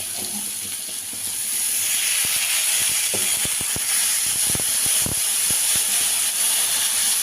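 Chhana curry sizzling in a hot pan after yogurt is added, a loud continuous hiss with scattered sharp pops and crackles throughout, no voices.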